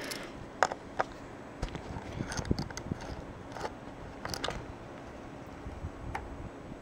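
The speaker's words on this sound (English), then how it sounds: "A smaller screwdriver for these screws, and just unscrew them" A small screwdriver works screws out of an HP Pavilion DM4 laptop case, giving scattered faint clicks and light metallic ticks at an irregular pace in a quiet room.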